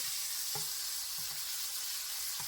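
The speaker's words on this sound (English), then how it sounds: "we've flipped that steak" Steak sizzles in a pan while cooking in Minecraft, a steady bright frying hiss with a few soft knocks as the meat is flipped; no voices.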